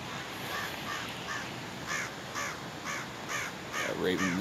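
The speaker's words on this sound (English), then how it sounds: "Got Raven in the tree." Raven calling from a tree in a Roosevelt National Forest campsite: a series of repeated hoarse caws spaced about half a second apart, mid-distance, over a steady outdoor background with a faint voice near the end.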